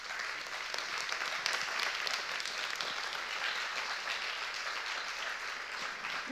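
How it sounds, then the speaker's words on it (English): Audience at a literary festival interview applauds steadily for the interpreters, a dense, even wash of many hands clapping throughout with no talk over it. "Patrick and Witold, if we can give a round of applause, please."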